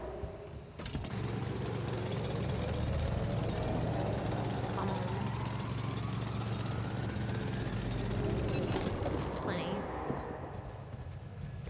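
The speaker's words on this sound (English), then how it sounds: "If only I had a tool to drill through them." A mining drill grinds through rock for rubidium in the video game The Alters, a loud, continuous mechanical rumble and rattle lasting over ten seconds. Someone briefly speaks over it.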